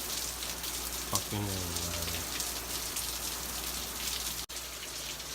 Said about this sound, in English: And now the rain, every time I do something, the rain, it always rains.